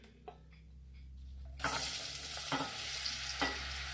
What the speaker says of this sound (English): So now that my butter is a nice light golden brown like this, I'm going to add my apples.